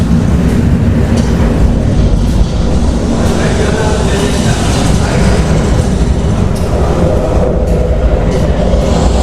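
A train rolls steadily along on a journey through Thailand, its loud, continuous rumble and wheel noise holding throughout with faint rhythmic clatter.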